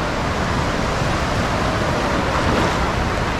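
Waves wash ashore at Wasaga Beach at low tide, a loud, continuous roar of surf mixed with heavy wind buffeting close to the microphone, with no voices.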